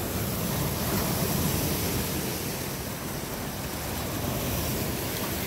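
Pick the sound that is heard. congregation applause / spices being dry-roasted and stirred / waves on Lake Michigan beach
waves on Lake Michigan beach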